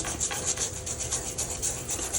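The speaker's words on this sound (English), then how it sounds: "you can just use an emery file. So I'm just going to scrape it a little bit" Rhythmic rasping strokes of an emery file scraping across two-tone cardstock, close and repeated several times in quick succession.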